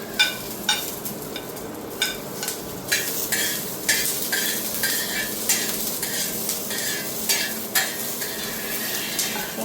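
Vegetables and ginger frying in oil in a home kitchen pan, a steady sizzle broken by repeated sharp scrapes and clinks of a spatula stirring against the metal, close and clear with no talking.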